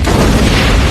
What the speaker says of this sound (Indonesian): mobil dinas Chris pun meledak